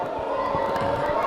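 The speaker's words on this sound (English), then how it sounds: "you can hear the crowd booing" Spectators at a schoolboy rugby match between S. Thomas' College and St. Anthony's College in 2015 raise a sustained, roaring crowd noise of booing, a dense wall of voices from the stands.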